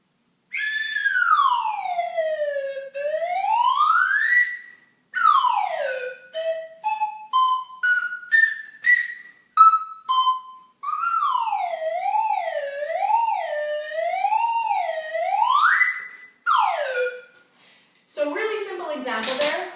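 A slide whistle in a preschool dance class, played in long smooth swoops down and up, then stepped rising notes, wavering glides and a final fast flurry, loud and close, with brief pauses between phrases.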